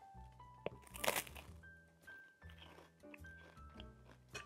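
Crunchy bites into a sugar-free vegan lemon curd dish while it is still hot, a few sharp crunches around the one-second mark followed by softer chewing, close and fairly quiet, with no talking.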